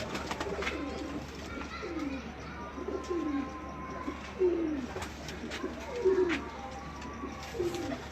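Pigeons kept by a Faisalabad fancier coo in a loose sequence of short, descending murmurs, moderately close, with faint background noise and no speech over them.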